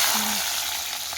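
Onion dropped into hot oil produces a loud, dense, continuous frying hiss that stays even throughout, close to the pan.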